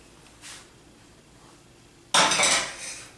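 A spoon or utensil clatters against a bowl while quinoa apple salad is mixed, a faint clink followed by a louder, close scraping rustle near the end.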